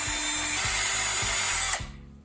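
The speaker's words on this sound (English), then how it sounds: "Pre-drilling right through my fabric." A power drill pre-drills through fabric into a bench, whirring loudly and steadily for nearly two seconds with rhythmic pulses before winding down abruptly.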